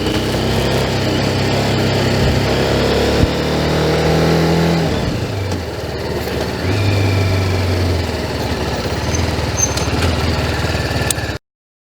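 A 2020 TVS Apache RR 310 motorcycle engine running loud and close, with a sustained droning rev that dips and then climbs again before cutting off abruptly.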